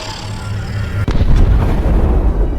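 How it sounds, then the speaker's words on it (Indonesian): An explosion in an animated zombie story, a sudden loud blast that bursts out of a rumbling background and rolls into a heavy, lingering roar. "sebuah ledakan pun terjadi"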